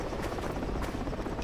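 A helicopter in the military shooter game Project Reality thrums close and loud, its rotor chop pulsing steadily across the whole moment with nothing else over it.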